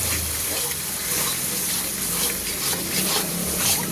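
Water pours into a simmering fish gravy of onion, ginger, garlic, chili and ground spices, a steady gushing splash that merges with the bubbling pan for the whole stretch.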